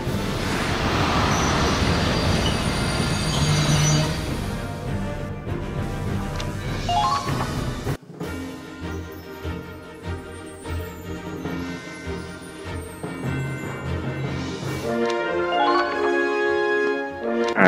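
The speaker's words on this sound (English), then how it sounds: "And of course they brought the fucking train back." Train passing on a railway battlefield in the video game Valkyria Chronicles 4: a loud, continuous rolling rumble with metallic squealing tones, then a cut to a quieter stretch of steady hum and ringing tonal sounds, with no talking.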